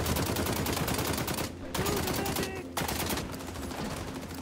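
Rapid automatic gunfire in the multiplayer shooter XDefiant, dense and continuous with brief gaps, loud and close, with faint voices underneath.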